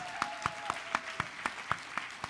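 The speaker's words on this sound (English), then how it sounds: "I'd like to ask if everyone can give a round of applause for NBCC's 50th year." An audience at the National Book Critics Circle Awards finalists reading at the New School applauds the circle's 50th year, with evenly spaced claps over a steady, moderately loud bed of crowd noise.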